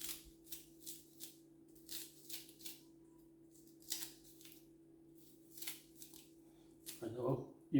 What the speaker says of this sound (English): Let me just get this scallion cut up.